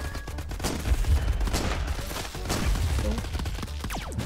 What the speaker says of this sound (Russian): У меня пулемет с двойными выстрелами, еще и с увеличенным уроном.